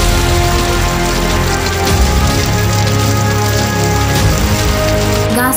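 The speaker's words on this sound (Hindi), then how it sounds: "नवरंगपुर जिला उमरकोट अंचल देखा मिली कुआपथर वर्षा।" Hail pelts down in the Umerkote area of Nabarangpur district, a dense, loud, continuous clatter of stones striking surfaces, with a faint hum underneath and no talk.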